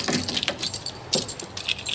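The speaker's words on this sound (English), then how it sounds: "Could I have the keys to the cleaning cupboard, Mrs. Morris?" Keys to a cleaning cupboard jangle and clink in irregular bursts, bright and metallic, fairly close, with no talking over them.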